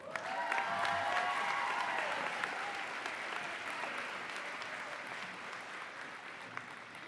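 Steady audience applause at a winter nurses recognition ceremony, a dense crowd clapping that holds for several seconds and slowly tapers, heard from a distance in a large hall.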